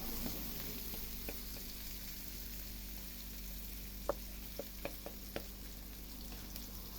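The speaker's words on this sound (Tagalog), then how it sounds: "haluin natin para mabalance yung frying texture" Ginger, garlic and onions fry in a pan for a crab dish, giving a steady close sizzle with a few sharp clinks of a utensil stirring; no one speaks.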